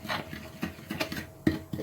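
A spoon stirs a baking soda and lemon juice mixture in a bowl, a few scraping strokes in uneven rhythm, close and fairly quiet with no voices.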